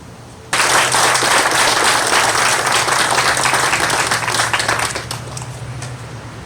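Loud, sustained applause from a crowd at a police chief's retirement ceremony, starting abruptly and holding steady as a dense wash of clapping before gradually easing off.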